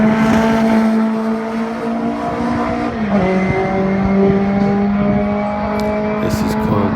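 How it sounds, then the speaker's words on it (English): A Rover Mini race car accelerates hard away from the start line at a street sprint event, its engine note climbing through the gears in loud, close revving bursts while a commentator talks over it. "36 is Kevin Shales in the Rover Mini."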